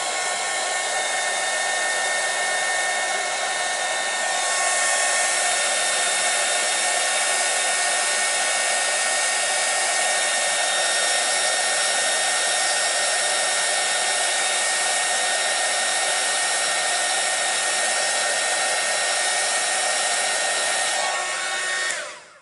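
A hair dryer blasts continuously to dry glittery paint on a painted canvas, a loud close whoosh that holds steady for about twenty seconds before cutting off at the end.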